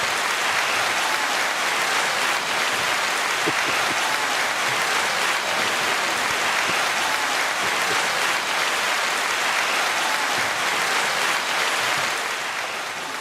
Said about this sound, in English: that crowd, that's a lot of people applauding there